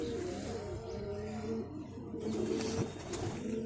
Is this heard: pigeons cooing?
yes